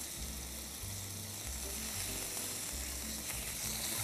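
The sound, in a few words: searing in olive oil in a cast iron pan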